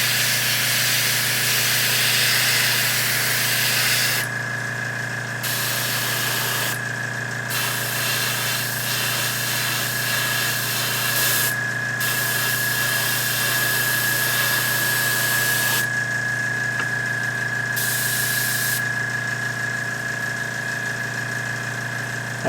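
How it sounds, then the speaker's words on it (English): Airbrush hissing steadily as it sprays paint onto the sword of an Eldar Wraithknight miniature, a continuous close airy spray with brief pauses between bursts and a faint pump hum underneath. "I think I gotta spray it from another angle here to get some of this in between sword bits."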